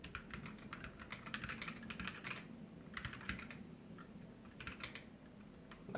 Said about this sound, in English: It's possible that I'm just hitting the wrong keys and it's not registering.